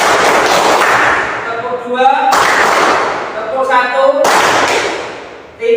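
Students in a classroom clap in bursts, each round of sharp, loud claps tapering off before the next begins, three rounds in succession with brief gaps of voices between them.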